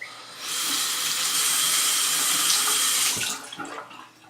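Water runs from a tap to wet a soft brush, a close, steady hissing splash that lasts a few seconds before cutting off into brief drips and movement.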